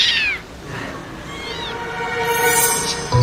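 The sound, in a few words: kitten meowing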